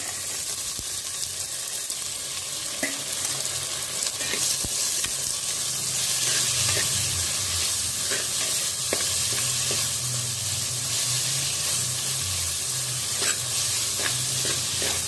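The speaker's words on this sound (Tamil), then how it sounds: "வெங்காயம் வதங்கிடுச்சு. இப்போ தக்காளியை போட்டுக்குவோம்." Onions and tomatoes sautéing in a pan for crab curry: a continuous close sizzle and hiss with occasional spatula scrapes and taps, steady throughout and free of talk.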